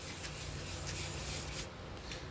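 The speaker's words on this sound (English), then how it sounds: "you're sanding off the oxidation off the headlights" Sandpaper rubs steadily over an oxidized plastic car headlight lens, giving a continuous close, soft scraping hiss with slight strokes and no talk.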